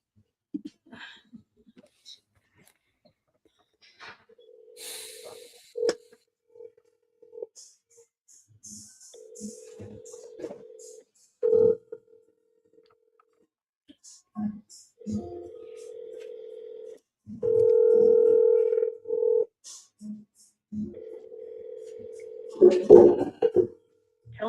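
A phone being dialed to place a call gives short electronic tones and beeps scattered through a quiet room, with a few longer steady tones and some faint breathing and background sounds.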